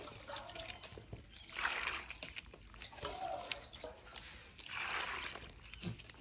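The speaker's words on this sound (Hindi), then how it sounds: "और पानी डालिए, इतने ही पानी डालिएगा? पानी डालो।" Water is poured and sloshed into a cow dung mixture in an outdoor courtyard, giving soft trickling and splashing in uneven bursts, fairly faint and close.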